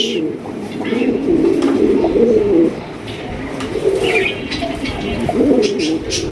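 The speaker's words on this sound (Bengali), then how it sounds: "একদম বিগ সাইজের কবুতর ফুল ফ্রেশ" Several big pigeons coo continuously in low, throaty rolling waves, loud and close, with a busy background and possible voices mixed in.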